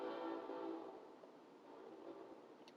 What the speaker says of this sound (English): I don't know if y'all can hear the train horn in the background.